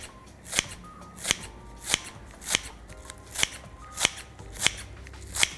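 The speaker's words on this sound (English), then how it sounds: "I've got some chives, and I'm just going to roughly snip those in." Kitchen scissors snipping chives over a bowl of spaghetti, a steady run of eight crisp close snips at an even rhythm, with no talking.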